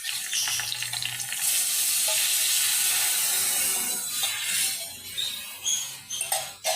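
A spoon stirs milk in a pan on the stove, with a continuous frying-like hiss and bubbling sizzle, a few light clinks and scrapes near the end, close up with no voices.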